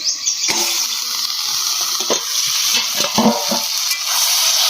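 Okra sautéing in a pan, a bright steady sizzle up close broken by several scraping, clattering strokes of a spatula against the pan, with no voices.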